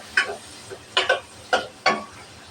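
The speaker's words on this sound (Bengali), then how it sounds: "পেঁয়াজটাও ভালোভাবে লালচা করে ভেজে নেব" Chopped onions fry in a pan, stirred with a handful of sharp, evenly spaced scrapes over a soft, low sizzle, close by and with no voices.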